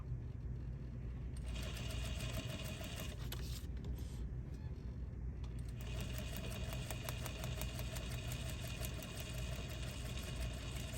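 A sewing machine stitching a New York Beauty quilt block runs in a steady continuous whir with fine rapid needle ticking, close and moderately loud, briefly easing off in the middle before resuming for the rest of the stretch.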